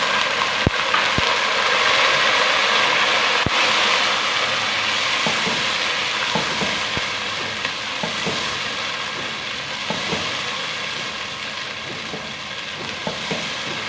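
Garlic-ginger paste sizzles steadily in a pan of oil with browned onions, a continuous close frying hiss punctuated by the occasional clack of a stirring spoon against the pot.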